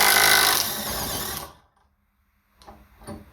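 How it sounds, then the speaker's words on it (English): An Alloyman 20v brushless 1/2-inch impact wrench running on high to remove a nut, with a loud buzzing hammering burst for about a second and a half, then silence, then two brief clattering bursts. "So I'm just going to hold it on and see if it takes it off and see if it stops."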